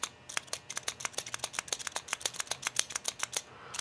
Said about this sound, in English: They do have a really nice clicking sound.